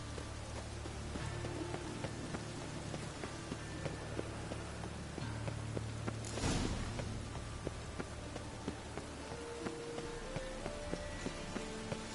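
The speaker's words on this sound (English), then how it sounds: "The rain will ruin it." Steady rain falls throughout, a dense even patter with a brief louder rush of water midway, with no voices.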